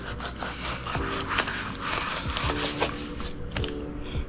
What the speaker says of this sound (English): Now it's time to skin them. I've switched over to this Dexter knife.